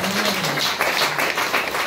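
A church congregation applauds during a sermon, a dense, steady wash of clapping from many hands that fills the space.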